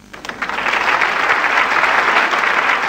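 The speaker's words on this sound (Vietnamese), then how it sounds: "hãy dành những tràng pháo tay nồng nhiệt cổ vũ tinh thần cho họ." Studio audience at a Vietnamese television quiz show bursts into loud, sustained applause for the contestants, swelling quickly and holding steady, nearby and without talk.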